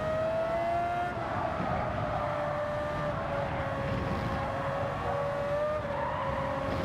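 A Gran Turismo 7 F3500-A race car at Suzuka in the video game howls at high revs, its steady, loud engine tone rising and falling slightly with gear changes and throttle, sustained without speech.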